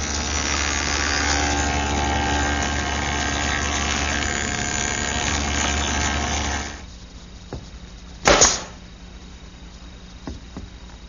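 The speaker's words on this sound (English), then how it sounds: "Now with the molding head cutter reinstalled in the table saw and a cutter which will make a small bead, I'll form the bottom of the molding." A table saw fitted with a molding head cutter shapes a small bead into wood molding, a loud steady whirring drone that cuts off abruptly partway through, followed by quieter room noise and a brief sharp knock.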